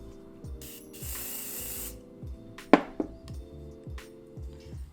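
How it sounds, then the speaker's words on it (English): Hairspray from an aerosol can sprayed onto a hairbrush, one close, loud hissing burst lasting about a second, with faint clicks and background music. "I like to grab hairspray, apply it to the brush"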